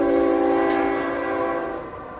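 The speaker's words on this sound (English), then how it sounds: "Here's our friendly neighborhood train." A passing train sounds a steady, loud horn that holds for about two seconds and then fades slightly, with no talking.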